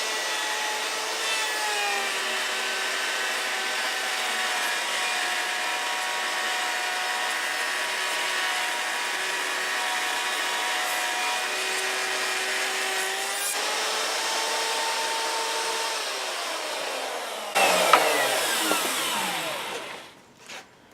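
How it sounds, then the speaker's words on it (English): A router cuts a rabbet into a wooden top piece for a swarm trap, a steady high whine with a grinding edge lasting close to twenty seconds before the motor spins down, loud and close with no talk. "Next we'll go over to the other router and we'll route out this top piece right here"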